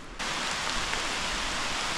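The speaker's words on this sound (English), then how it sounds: "And it's raining again." Steady rain falling at a pond-side campsite in the White Mountains, a dense, even hiss of drops that starts abruptly and continues close and alone.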